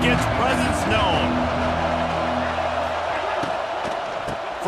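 Steady, dense roar of a stadium crowd in EA College Football 26 at a Notre Dame game, loud and continuous throughout with brief thumps and bursts mixed in.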